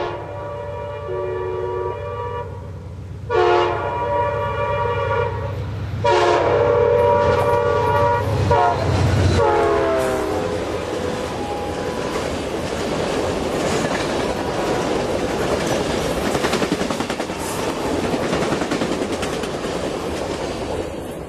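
Amtrak's Sunset Limited passenger train passes near the Green Cove Springs signal in Florida, sounding several loud horn blasts over a deep engine rumble before the steady roar and rattle of the cars rolling by close up.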